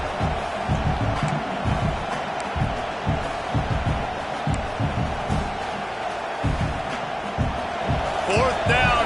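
A football stadium crowd on fourth down keeps up a continuous loud roar and rumble, with swells of cheering and shouts over the dense background.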